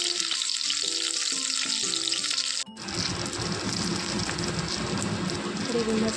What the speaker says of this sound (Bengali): বেগুন ভাজাটা হয়ে গেছে, এখন কাঁকরোল ভাজাটা বসিয়ে দিলাম।